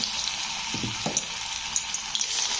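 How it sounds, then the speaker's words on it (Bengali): Steady crackling sizzle of radish fritters frying in hot oil in a wok, with a few soft clatters partway through. "এবারে আমি এগুলোকে ভাজবো দেখো ওভেনে কড়াই বসিয়ে দিয়েছি আর তেলটাকে গরমও করে নিয়েছি"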